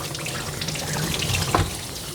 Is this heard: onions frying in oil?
no